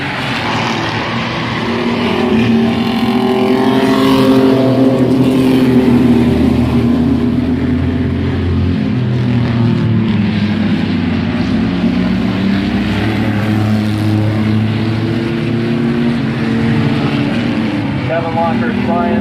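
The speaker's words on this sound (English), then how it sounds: "Here comes Walker in the 118." Mini trucks racing around the oval at Midvale Speedway, a steady loud drone of several engines rising and falling as they circle, heard under a race announcer's running commentary throughout.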